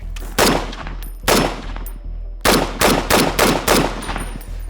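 A .308 rifle fitted with an ACOG scope fires roughly eight sharp, loud shots, the first few spaced apart and the rest coming in a quicker steady rhythm, each with a short ringing decay.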